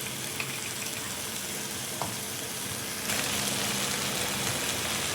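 An ivy gourd and egg stir-fry sizzles in a pan while it is stirred, a close, steady frying hiss with a couple of small knocks, growing louder and brighter partway through.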